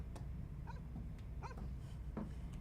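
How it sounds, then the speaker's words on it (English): A dog in a video game barks and yips a few times at a moderate distance over a steady low hum, with irregular spacing between the barks. "Whose dog is barking?"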